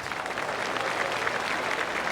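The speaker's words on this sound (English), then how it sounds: "I can hear the golf claps around the course" Steady, dense applause from a golf gallery around the course in the PGA Tour 2K25 video game, at The Players Championship final round, a continuous distant patter of many hands with no voices over it.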